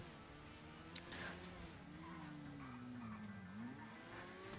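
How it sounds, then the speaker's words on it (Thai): A car in GTA V Online drives up onto a bridge, its engine humming steadily with a brief tire squeal, fairly faint and without speech. "แล้วก็ขับรถขึ้นไปบนสะพานเลยครับผม"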